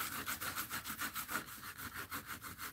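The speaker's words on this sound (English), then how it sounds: "Just kind of sand it off a little." Sandpaper rubbing back and forth over a glazed painted art piece to take off the glaze, a steady run of about a dozen close, rhythmic scratchy strokes with no talking.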